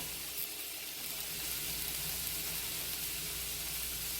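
Brussels sprouts sizzle loudly and steadily in a cast iron skillet, a dense, continuous hiss heard up close with no talking.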